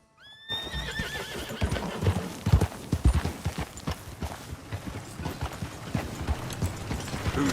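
Hooves clip-clop in a steady trotting rhythm in a video game, with a horse whinnying at the start and a low rumble underneath.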